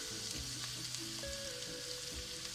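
Onion and garlic sauté in oil in a pan, giving a soft, steady sizzle that stays even and fairly faint from start to end, with no voices.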